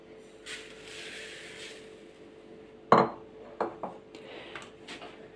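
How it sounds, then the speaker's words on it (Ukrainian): Soft butter and sugar being creamed by hand in a bowl for a yeast-free curd Christmas stollen: a soft scraping rub, then a sharp clink and several lighter taps of the utensil against the bowl. "і збиваємо, вірніше, навіть не збиваємо, а розтираємо масло з цукром"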